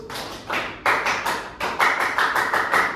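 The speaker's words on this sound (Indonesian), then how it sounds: "Tepuk fokus." A classroom of students claps a rhythmic 'tepuk fokus' focus clap, sharp group claps in quick patterned bursts, close and clear.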